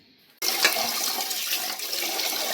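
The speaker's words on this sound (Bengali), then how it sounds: "তো চালটা ভালো করে ধুয়ে নিচ্ছি" Rushing water from a tap or poured over rice being washed in a home kitchen, starting abruptly after a quiet moment and then running loudly and steadily nearby.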